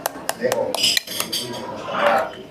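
A spoon strikes and cracks the caramelized burnt sugar crust of a crema catalana in a restaurant setting, with several sharp taps and clinks against the dish followed by crunching scrapes, close and fairly loud.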